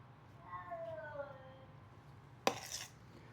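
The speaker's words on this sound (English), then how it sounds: "If you heard that, that was my cat." A cat meows once with a drawn-out falling cry in a kitchen during cooking, faint against low room noise, followed by a sharp clatter.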